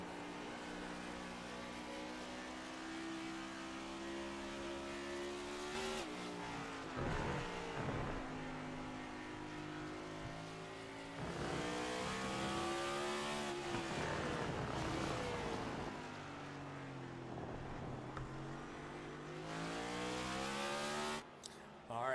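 An onboard race car engine roars around a track as the leading car, its pitch rising and falling through upshifts and lifts, loud and close throughout.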